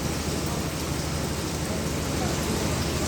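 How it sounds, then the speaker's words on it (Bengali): Heavy rain pours during Cyclone Remal at Cox's Bazar, a dense, continuous loud roar of rainfall with steady intensity throughout and no distinct voices. "এই বৃষ্টি থামতেছে আবার এই শুরু হচ্ছে"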